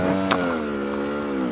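A KTM 300 TE injection enduro motorcycle engine revs smoothly and close by, its steady tone gliding slightly in pitch, with a brief sharp knock early on.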